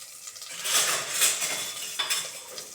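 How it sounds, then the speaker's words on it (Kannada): Garlic and curry leaves fry in hot oil for spinach sambar, a soft crackling sizzle running throughout with light clinks of a utensil against the pan. "ಚಟಪಟ ಅಂದಮೇಲೆ ಈ ಥರ ಬಣ್ಣಕ್ಕೆ ಬರಬೇಕು"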